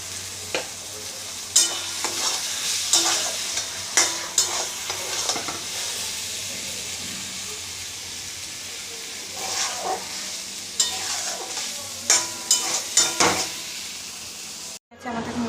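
Ghee sizzling in a pan while a spoon stirs and scrapes, with clusters of sharp scraping knocks through a steady fry hiss and a clunk near the end; no talk.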